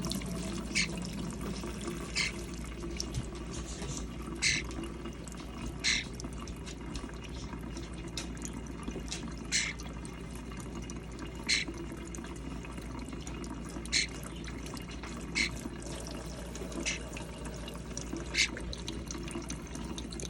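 Tap water running steadily into a basin as a bath for a pet starling, a continuous soft wash of flow with faint drips and light splashes through the background.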